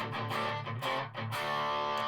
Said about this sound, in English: so if I stick on the rat pedal, the single coil